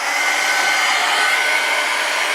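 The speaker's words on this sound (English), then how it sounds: "take your heat gun or blow dryer" Blow dryer or heat gun blowing over alcohol ink on canvas, a loud, steady, close airy whoosh with constant motor hiss and no pauses.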